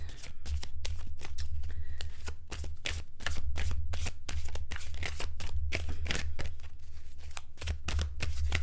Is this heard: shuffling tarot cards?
yes